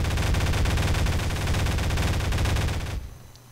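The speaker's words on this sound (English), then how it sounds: "Now you click and it shoots." Wire-controlled turret in Garry's Mod firing a sustained automatic burst, a dense loud stream of rapid gunshots lasting about three seconds before cutting off abruptly to quiet.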